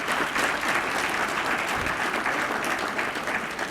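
A crowd at a drug court anniversary luncheon and awards ceremony gives the award recipients a long, even round of applause, dense and sustained, with no speech over it.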